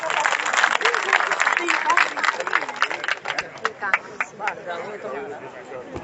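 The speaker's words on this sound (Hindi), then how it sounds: "कृपया जोरदार तालियों से इनका स्वागत, अभिनंदन।" A crowd at a BJP election rally in Bhulana village, Baijnath, claps loudly and densely at first, then the clapping breaks up into scattered claps mixed with voices and chatter.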